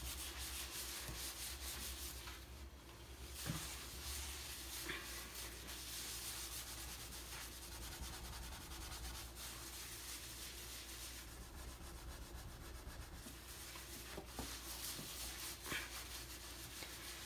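A stovetop being scrubbed to remove burnt residue, giving a steady, continuous rubbing and scouring texture throughout, close and moderately loud with brief pauses and no talk.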